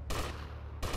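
Gunfire in GTA Vice City: Definitive Edition during the Loose Ends mission, a dense, loud burst of rapid shots filling nearly the whole second, with a brief gap before another shot at the end.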